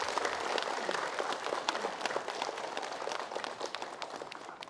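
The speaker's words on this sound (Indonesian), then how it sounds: "Yuk, tepuk tangan ibu-ibu boleh." Women in a studio audience applaud with a crowd's quick, busy patter of claps that holds steady and tapers slightly near the end.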